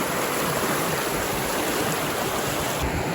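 A backcountry creek on the Dolomite Circuit in Banff rushes steadily at close range, a continuous broadband wash of flowing water with no voices over it.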